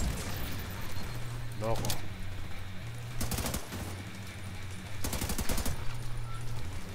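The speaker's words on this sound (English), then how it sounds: "Okay, open fire. Firing." Gunfire from The Division 2 in a Stronghold mission: sharp bursts of automatic rifle fire in several clusters over a low game drone, with a few words of talk.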